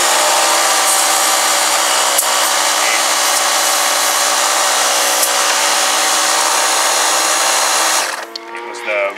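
Compressed air blasts loudly and continuously into a landing gear hydraulic line on a Siai Marchetti aircraft, a steady roaring hiss that drops off near the end.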